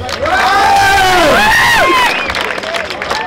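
A crowd at a Sri Ramalingeswara Swamy temple fair cheers loudly, with shrill whoops and whistling cries over a dense wash of voices and some clapping.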